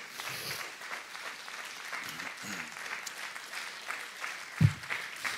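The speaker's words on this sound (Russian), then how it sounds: "Большие аплодисменты и давайте послушаем." Applause in a church service welcoming a woman to give her testimony, moderately distant and fairly soft, a steady patter of clapping with a brief louder thump near the end.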